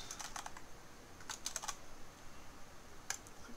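Quiet keystrokes on a computer keyboard while entering a name in Unreal Engine 4, a quick burst of taps, a second short cluster, then a single tap, close and soft over faint room noise.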